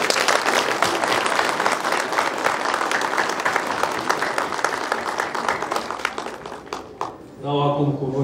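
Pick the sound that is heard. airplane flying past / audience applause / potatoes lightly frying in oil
audience applause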